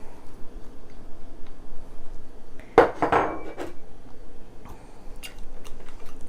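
Chopped salsa ingredients tumble into a bowl in one short, close clatter lasting about a second, with a faint clink against the bowl, in an otherwise quiet room.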